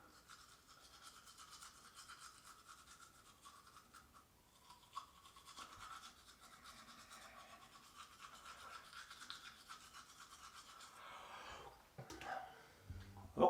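A toothbrush scrubs back and forth across the biting surfaces of the teeth, a quiet, close, continuous rhythmic bristle scratching with soft breathing and mouth sounds.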